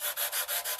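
Sandpaper is drawn over banjo frets in six quick back-and-forth strokes, producing a close, hissing rasp with a steady rhythm.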